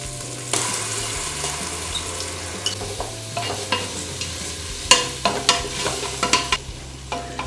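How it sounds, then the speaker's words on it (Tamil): Ginger and garlic frying in ghee in a pan for coconut-milk ghee rice, a steady sizzle punctuated by repeated close scraping stir strokes from a spoon, growing busier toward the end. "இப்போ நம்ம இஞ்சி பூண்டு சேர்த்துக்கலாம்."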